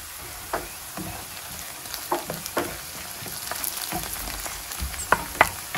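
Chopped onions sauté in a pan with a soft continuous sizzle, broken by scattered crackles and pops, close up and quiet with no talking.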